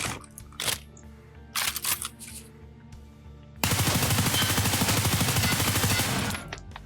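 Sustained automatic M4 rifle fire in Escape from Tarkov, a loud rapid burst of shots for about three seconds, preceded by a few brief clicks and mechanical handling sounds.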